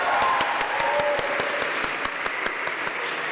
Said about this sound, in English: so please applause to Daniela.